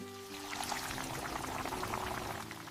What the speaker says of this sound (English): Pour in the leftover marinade mixed with water